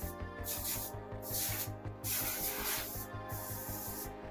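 Grill and oven cleaner sprayed onto the steel body of a 1965 Ford Mustang: a close, hissing spray in several short bursts, with rubbing and scraping sounds between them and no talking.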